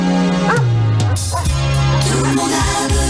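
Dog barks and yips blended into a loud radio jingle, with sustained music tones running underneath the short repeated barks throughout.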